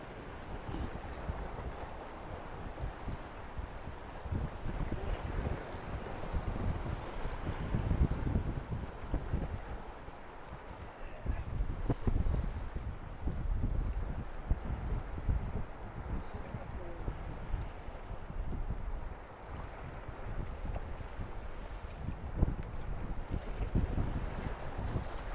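Strong wind blows across open water from a small fishing boat, a steady, gusty rush buffeting the microphone throughout with faint water movement underneath.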